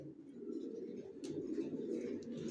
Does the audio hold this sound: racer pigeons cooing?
yes